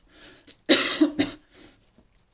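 A person coughs several times in quick succession close by, a few harsh bursts followed by a softer throat-clearing cough.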